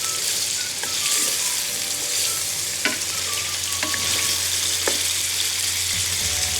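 Beef sizzling and frying in a karahi for a Peshawari Shinwari dish, a steady close hiss with occasional sharp stirring scrapes over a low background hum.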